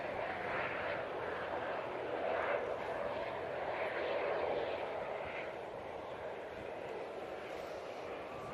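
A Loganair plane from the Isle of Man rolls out after landing at Manchester Airport, a broad distant engine roar holding steady and easing slightly, with a voice talking over it.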